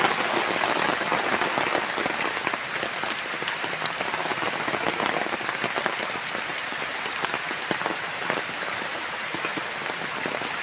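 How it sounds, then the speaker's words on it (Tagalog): Rain falling steadily, a dense even patter of drops striking surfaces close by, continuous and moderately quiet with no voices over it. "Ulan na."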